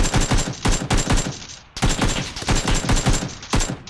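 Rapid bursts of automatic gunfire from a battle-royale shooter game: several loud, close volleys of fast repeated shots, a brief pause near the middle, then more sustained firing without talk.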